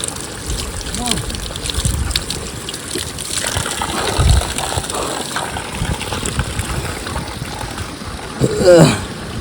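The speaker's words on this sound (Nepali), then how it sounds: "चल्यो रे पानी" Water pours and gushes steadily from a spout, fairly loud and close, with a voice speaking briefly over it.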